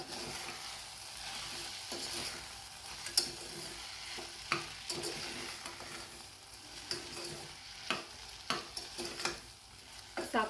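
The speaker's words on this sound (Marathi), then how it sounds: "ही साखर घालत आहे मी छान असं परतून घ्यायचं" Sago sautéed with sugar in a pan makes a low sizzle under repeated scraping and stirring strokes, with occasional light knocks of the spoon against the pan and no talking.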